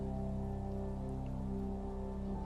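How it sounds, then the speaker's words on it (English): Steady heavy rain pours down in a continuous dense wash, with a low constant hum beneath it, no voices over the downpour. "the rain's beginning to come down hard"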